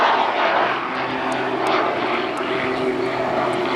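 A jet-powered Pitts Special aerobatic biplane flies at an airshow, a loud, steady roar of engine noise holding throughout, fairly close and without talk.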